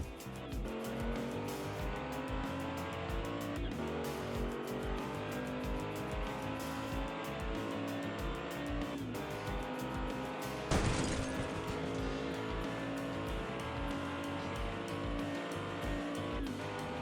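Hot Wheels toy cars, including a Premium NSX, race down a plastic track with a steady rolling whir throughout and a brief sharp burst near the end, loud and continuous without talk.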